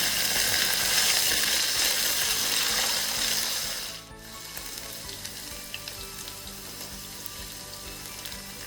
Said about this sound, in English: we're going to fry the potatoes, and we need about 4 tablespoons of oil